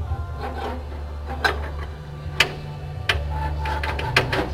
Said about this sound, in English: Looking for the rivet line through the pre-drilled holes, we can go ahead and rivet this in place.